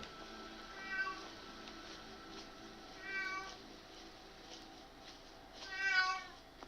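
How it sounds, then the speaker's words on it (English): A house cat meows three times at even spacing, each call drawn out and moderately close, the last the loudest, over a quiet room. "That's my cat."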